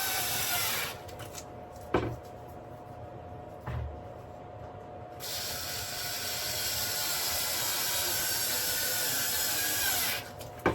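Screwdriver driving screws into a model railway baseboard, a steady whirring mechanical grind with a few sharp clicks and knocks between runs, close and fairly quiet.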